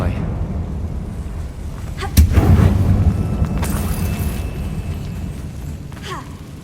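A Confringo blasting spell bursts in a mine in Hogwarts Legacy, a sudden loud boom with a rumbling tail over low ambient game noise, followed by faint crackling debris.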